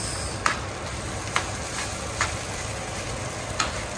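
Masala mixture sizzling steadily in a pan while a spoon stirs it, scraping against the metal about four times at an uneven, unhurried pace, close and clear with no speech.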